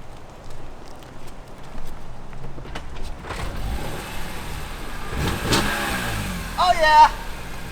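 A BMW E46 M3 with a bad starter is push-started, its engine catching and revving over tire and street noise while voices talk nearby.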